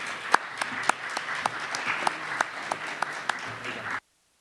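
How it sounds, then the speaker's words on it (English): A conference audience applauds a speaker in a hall, with moderate clapping and a few sharp individual claps standing out, lasting about four seconds before cutting to silence. "Let's give a round of applause for Matthew."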